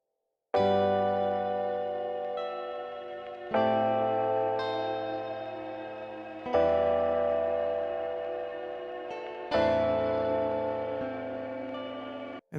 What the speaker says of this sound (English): And I just want to put a ton of reverb on that.